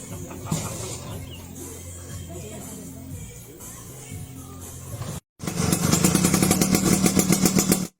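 A restored 1997 Vespa XL 200cc scooter engine runs loud and close, a steady throbbing note after a quieter stretch of outdoor background noise and a brief cut.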